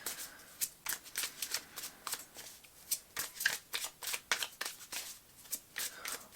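Tarot cards are shuffled close by in quick, repeated riffles and flicks, forming a brisk, fairly regular rhythm of crisp papery snaps.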